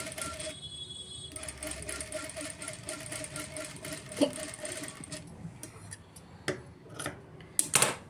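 Sewing machine stitching a finishing strip onto a square blouse neckline, a faint steady mechanical whir with small ticks and clicks, fairly quiet and close, with no talking.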